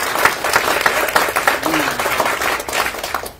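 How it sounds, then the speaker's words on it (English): A church congregation at a Maundy Thursday service claps along in a steady, moderately loud patter of many hands, with a voice speaking over the clapping. "can you clap your hands?"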